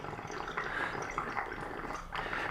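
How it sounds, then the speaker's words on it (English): Water gurgles and drips irregularly inside a pipe of an old building, faint, close, uneven bubbling with no voices over it. "It's gurgling."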